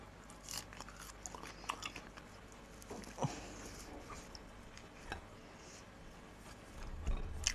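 A woman eating food on camera, soft irregular crunching bites and chewing close to the mic, quiet and without talk.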